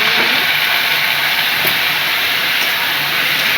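Water poured onto hot spices with salt and turmeric in a pan for Bengali mulo ghonto, a loud, continuous bright hiss of steam that holds steady for a few seconds.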